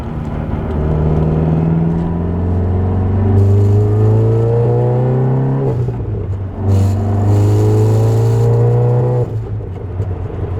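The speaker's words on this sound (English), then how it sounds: "We're gonna flick her into sport mode and just make sure she's running all right." Volkswagen MK7 GTI in sport mode accelerating hard through the gears, engine note climbing steadily, dropping at a shift near the six-second mark, then rising again; loud, close and steady with no talking.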